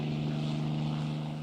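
Steady drone of a propeller aircraft engine on an RAF reconnaissance plane over the Atlantic in the Second World War, a constant low hum with a throbbing pulse, moderately faint and heard alone.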